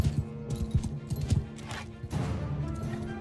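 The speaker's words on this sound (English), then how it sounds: "We've got their horse archers charging again." Horse archers gallop in the video game Mount and Blade II Bannerlord, with rapid clip-clopping hooves pounding close and steady over a low battle rumble.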